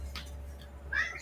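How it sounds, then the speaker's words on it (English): A cat meows nearby, a short call followed by a louder rising meow, over a low steady electrical hum. "Shh. Be quiet. My cat is annoying."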